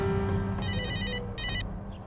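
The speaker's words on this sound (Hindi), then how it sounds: "अरे किसका फोन आ गया?" A mobile phone ringtone sounds in two short bright bursts over a low background hum, loud and close.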